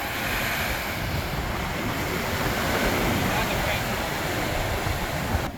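Atlantic Ocean surf near Lemon Hill Resort in Ghana, a steady broadband wash of breaking waves mixed with wind buffeting the microphone, continuous and fairly loud throughout.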